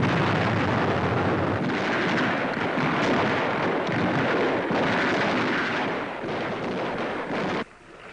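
German gunfire and explosions rumble during the wartime Allied landing on Elba, a dense, continuous barrage of booming blasts that stays loud before easing off at the end, with no talk.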